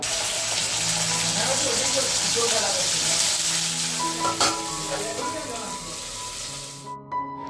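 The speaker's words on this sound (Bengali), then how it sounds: "ভেন্ডিটা ভাজতে বসিয়ে" Okra (bhindi) fries in a pan in a home kitchen with a steady sizzle, while faint voices and other household sounds carry on in the background.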